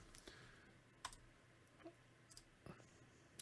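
Faint computer mouse or key clicks, a handful of sharp isolated clicks spaced irregularly over a quiet background.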